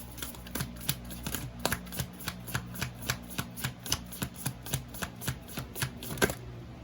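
Tarot cards being shuffled close up, a rapid series of crisp riffling snaps repeating at a steady rhythm over a low background hum.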